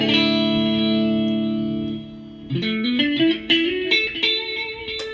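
A heavily effected electric guitar, a Squier Contemporary Stratocaster HH Floyd Rose through a POD GO, holds a sustained, layered chord, then breaks into a run of bending lead notes with chorus and distortion, loud and close.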